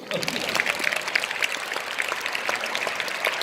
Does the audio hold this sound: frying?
no